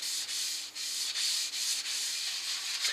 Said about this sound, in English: I'm going to put on a coat of foodsafe oil. Rub it in along the grain.